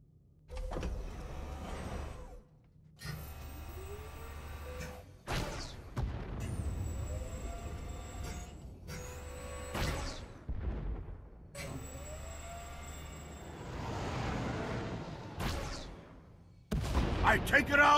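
Starship cannons firing in Star Wars: The Old Republic, repeated loud blasts in separate bursts with whooshing tails, each volley cutting off abruptly before the next, close and dominant.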